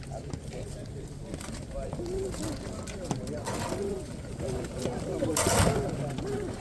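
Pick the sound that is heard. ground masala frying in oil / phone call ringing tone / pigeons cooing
pigeons cooing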